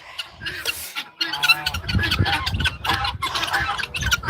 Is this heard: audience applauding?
no